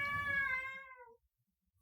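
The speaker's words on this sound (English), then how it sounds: "That's my cat Mochi." A pet cat lets out a single drawn-out meow, close and clear, fading away into near silence.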